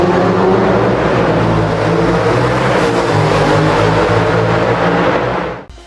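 A modified 2.5-liter five-cylinder engine from the Audi RS3 and TT RS revs hard in a Need for Speed racing game, a loud, dense, sustained roar that holds steady for several seconds before cutting off at the end.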